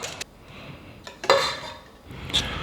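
Extra large white eggs being whisked in a bowl, with light clinks and scrapes of a utensil against the dish in a few short bursts, close and fairly quiet.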